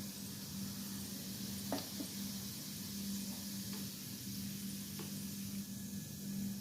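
Garlic and cumin seeds sizzle steadily in hot oil for a tadka, a soft continuous frying hiss with a faint hum and a few light stirring clinks.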